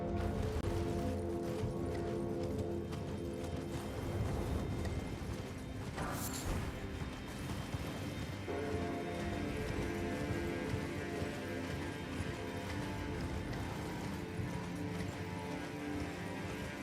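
Torrent, the spectral steed in the Elden Ring video game, gallops with a steady, rapid clip-clop of hooves under game music and ambient effects, fairly quiet and continuous throughout.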